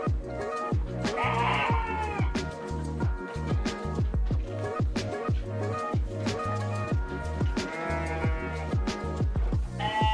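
Crossbred F1 Dorper and F1 Awassi sheep with Priangan ewes bleat repeatedly in a farm pen, many overlapping calls near and far over steady pen noise, with no talk.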